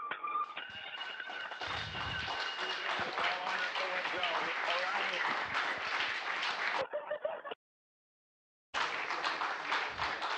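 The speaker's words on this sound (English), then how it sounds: "Lots of cheering here in the room." Loud crowd cheering and applause fill a control room as a spacecraft approaches the International Space Station, sustained clapping and voices that stop abruptly for a moment of silence and then resume.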